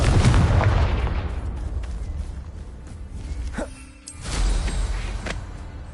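A loud, close blasting curse explosion rumbles and booms from the Confringo spell, decaying into a roar, with a brief whoosh and a second swelling blast near the end.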